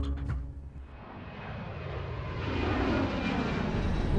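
A jet airplane at Heathrow roars steadily, its broad engine noise building gradually in loudness over a few seconds with no voices present.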